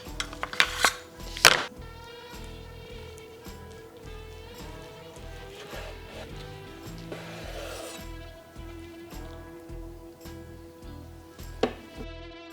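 A knife slices through a smoked Iberico pork collar on a wooden board. A few sharp taps and knocks open the sequence, then a soft repeated rubbing and rasping of the blade, with a scraping sound near the end.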